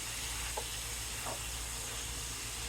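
Hamburger patties frying in a pan on a stove set to medium, a steady loud sizzle with a couple of faint pops and utensil touches, and no talking.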